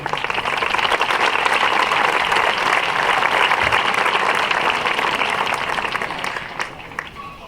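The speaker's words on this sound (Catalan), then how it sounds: "Un fort aplaudiment," Audience applauding at a Valencian-language public event, a sustained dense clapping that stays strong for several seconds, then thins and fades near the end.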